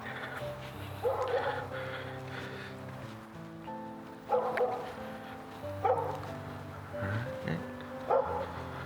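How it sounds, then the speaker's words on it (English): A dog barks several times at a distance up on a patio, scattered single barks and yips with pauses between, fairly faint against a quiet background. "there's a dog barking up on a patio"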